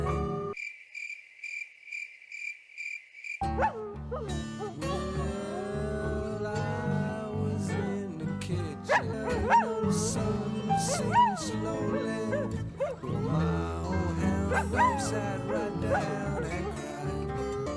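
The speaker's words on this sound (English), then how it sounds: "But these dog noises" Music with a bluesy band and singing, with yelping, whimpering dog-like noises woven in; a short electronic chirping intro before it starts.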